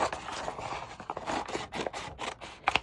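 Scissors snipping through paper while cutting out circles, a quick run of close, crisp cuts and slides, fairly quiet and without talk.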